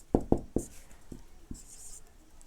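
Pen tapping and scratching on paper or a board as examples are written out by hand during a grammar lesson: three quick knocks, two sparser taps, then soft scribbling, close and quiet, with no talking.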